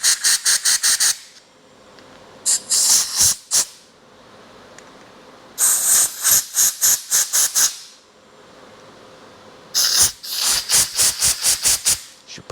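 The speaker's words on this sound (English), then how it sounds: "I can feel air blowing out the other side with that orifice." Compressed air blasts through the small orifices of a carburetor in repeated short hissing bursts, rapid sputtering puffs grouped into several runs with brief quiet gaps, loud and close.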